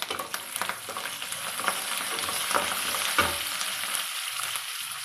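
Garlic cloves and mint frying in a pan with sesame seeds for bottle gourd chutney, a soft close sizzle with light scraping stirs, no voices.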